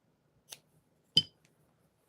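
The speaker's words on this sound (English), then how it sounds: "take your scissors and cut" Two sharp, isolated snips of scissors cutting knots off a fabric wristlet, the second louder and crisper, separated by quiet, with a faint click after.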